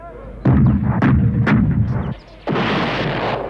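Heavy cannon and musket volleys in a film battle scene set in the colonial era: three sharp booming blasts about half a second apart, then a longer roaring discharge, all loud and close.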